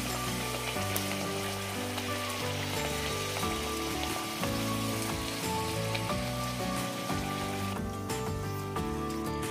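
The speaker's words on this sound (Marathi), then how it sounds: "पुरी एका साईडने तळून घ्यायची. तर दुसऱ्या साईडने आपण फ्लिप करून घेऊया पुरी" Pumpkin puris (gharge) frying in hot oil give off a steady, rain-like sizzle that runs throughout, partly under background music.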